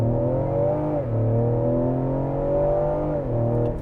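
A 2020 Ford Explorer ST launches hard from a stop, its engine revving up through two gear changes with a rising, whirring growl heard from inside the cabin.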